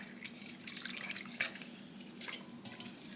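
Vegetables rinsed with water at a kitchen sink: a steady soft splashing and dripping stream with a few sharper splashes, close by and moderately quiet, no talking.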